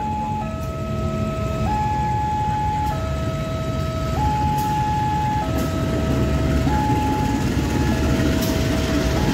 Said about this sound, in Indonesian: Langsiran CC 2017803 sepertinya ini melansir rangkaian posko ya.